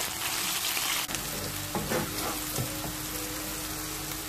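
Onion paste and whole spices fry in a pan for a Bengali-style trout curry, a steady close sizzle with a few sharp crackles and spatters rising over it, no voices.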